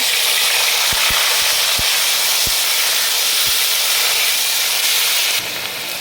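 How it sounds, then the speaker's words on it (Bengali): Onion paste hits a hot pan in a fish curry preparation and sizzles loudly and steadily, a close, continuous hiss with a few faint clicks, easing slightly near the end; no talk. "এবার পেঁয়াজ বাটা দিচ্ছি"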